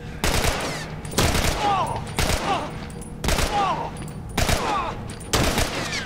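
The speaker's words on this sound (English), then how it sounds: "Ever heard of burst fire?" Repeated short bursts of automatic gunfire in The Last of Us inside Saint Mary's Hospital, about five sharp loud volleys at roughly one-second intervals with ringing echoes between them.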